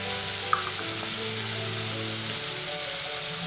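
Ginger, green chili paste, turmeric, red chili and cumin powders fry in a pan with a loud, steady close-up sizzle and occasional stirring, no talk.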